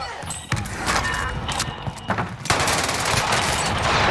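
Rapid video game gunfire from XM4 and Owen guns in a combat match, dense bursts of shots close and loud, with sharp transients and a continuous rattle building in the second half.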